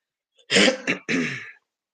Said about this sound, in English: Oh, the coughing hurts.